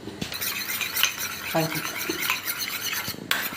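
Turmeric and chili powder being stirred into a raw omelette mix for children, with a steady close scraping and clinking of a utensil against the bowl, broken by a few sharper taps.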